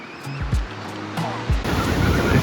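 Ocean surf breaking at a beach by the Hotel del Coronado in San Diego on a cold winter day: a steady wash of broadband noise with a couple of low thumps and a louder surge near the end, no talk.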